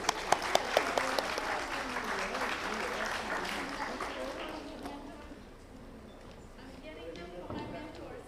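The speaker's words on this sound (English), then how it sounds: "A great round of applause, please." Conference audience applauding during a memento presentation at an education plenary session, loud clapping with sharp individual claps early on that thins and fades toward the end.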